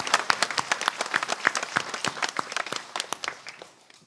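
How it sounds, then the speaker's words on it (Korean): A church congregation claps loudly during a Korean worship service, sharp overlapping handclaps in a brisk rhythm that thin out and fade toward the end. "크게 박수로 한번 영광을 올리십시오"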